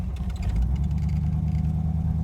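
A 1960s-era Ferrari 250 GT California with a 5.0 engine, 5-speed transmission and carburetors runs on a test drive, giving a steady close engine rumble with low throbbing and faint clatter, no voices.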